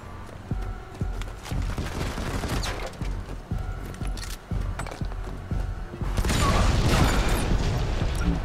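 Dense gunfire from the mobile shooter Modern Combat 5 in a free-for-all match: repeated sharp shots and mechanical clacks, building into a louder sustained barrage near the end.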